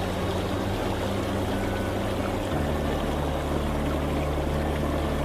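Steady bubbling and churning water from the bubble massage jets of a PureSpa portable spa as it fills, a continuous close rush with a low rumble that shifts slightly partway through, no talking.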